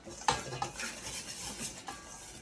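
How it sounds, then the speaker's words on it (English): Dry ingredients for boneless fried chicken are whisked together in a bowl, giving brief scraping clinks and stirring rustles in quick, uneven strokes at close range, with no voices. "I'm going to whisk my dry ingredients together"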